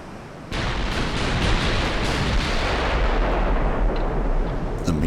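Heavy naval guns fire in the warship battle game Ultimate Admiral: Dreadnoughts, a sudden loud boom that settles into a continuous roaring rumble of distant salvos and explosions, with no voices.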